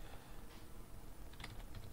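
Computer keyboard keys tapped while entering a Linux command, a quick run of light clicks in a quiet room.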